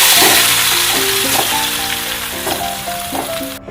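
Mango pieces dropped into hot tempering oil for a mango curry, giving a steady close sizzle and crackle that slowly fades, with faint clinks from a spoon or pan over it.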